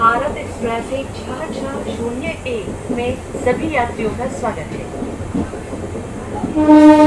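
A passenger express hauled by WAP7 electric locomotive 37546 rumbles past on the Erode–Jogbani Amrit Bharat route, wheels clattering steadily, ending in a loud sustained horn blast, with someone talking throughout.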